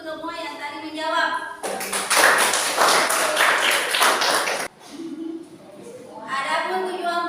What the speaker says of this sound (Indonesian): Jadi aplaus untuk semua yang tadi menjawab